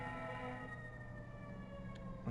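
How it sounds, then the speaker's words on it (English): An ambulance siren sounds steadily through a quiet lecture room, its wailing tones heard faintly from outside with no one speaking. "for the ambulance to go by"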